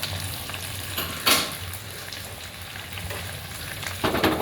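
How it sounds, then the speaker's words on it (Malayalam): Finely chopped tomato and onion hit hot oil in a pan and sizzle steadily. A continuous close frying hiss is broken by a couple of louder stirring scrapes. "ടൊമാറ്റോ ചെറുതായിട്ട് അരിഞ്ഞതിട്ട് കൊടുക്കുകയാണ്. ഒപ്പം ചെറുതായി അരിഞ്ഞ സവാളയും"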